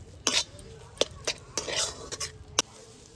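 A spoon scrapes and knocks against a pan as a cauliflower paratha filling is mixed with chopped coriander and a little sugar, giving a run of sharp, close clinks and stirring scrapes with faint background hiss.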